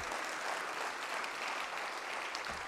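A faint, steady wash of audience applause during a talk on ocean and climate, many hands clapping evenly throughout at a distance.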